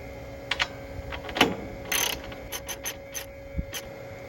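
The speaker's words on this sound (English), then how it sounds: "After which both sides will gently be snugged down with a 7/16 socket." A 7/16 socket ratchet snugging down bolts on the cover of a Pentair UltraTemp pool heater, giving irregular clicking bursts, short ratcheting runs and a few metallic knocks, close and fairly clear without talk.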